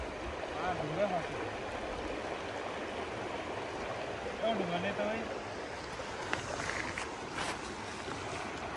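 A mountain stream flows with a soft, continuous rushing wash, faint and a little distant, while voices talk quietly over it now and then during fishing in Nepal.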